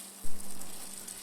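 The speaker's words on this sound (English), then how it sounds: "So into a heated pan add in oil for shallow frying the fishes" Oil sizzles in a pan with a steady frying hiss, quiet and close, after a soft thump as mackerel slices go in for shallow frying.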